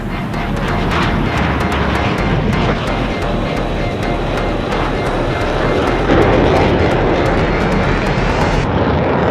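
The AJAX research aircraft in flight gives a loud, steady engine roar with broadband rushing noise. It holds on without a break, swells slightly near the end and then eases a touch.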